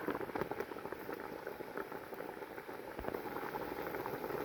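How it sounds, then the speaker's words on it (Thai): Water at a rolling boil in a pot of vegetables over a wood fire, a steady close bubbling and popping that fills the clip with no talk over it. "น้ำเดือดแล้วเราก็เอาเลยนะคะ"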